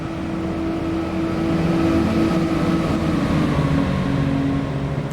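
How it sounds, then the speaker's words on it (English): Train passing on the Fife Circle Line in Train Simulator 2021, a steady low rumble with a sustained hum, fairly close and continuous, growing slightly louder midway with no voices over it. "That was a train."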